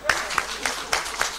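A crowd applauds at an official results-release ceremony, loose rhythmic claps with several sharper peaks, mixed with a voice talking over them.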